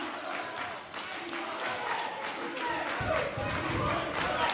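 A crowd cheers and claps at a varsity boys basketball game, a busy, excited roar of shouts and applause that swells in the second half, with voices mixed through it.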